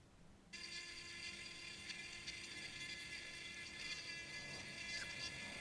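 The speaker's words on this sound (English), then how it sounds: "Using that Dremel to clear the material above, just so the blade can get a little bit closer to where I want it." A Dremel rotary tool carves wood while a love spoon is shaped, starting suddenly as a steady, close, high-pitched whir that holds constant for several seconds with slight grinding variations.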